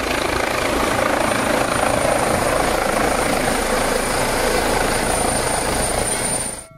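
Steady whirring toy helicopter rotor noise, loud and close, running continuously before fading out at the end.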